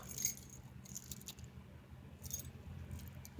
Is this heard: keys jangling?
yes